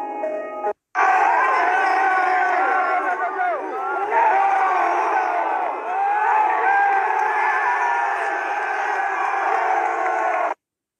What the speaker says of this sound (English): Why is this particular group of people cheering?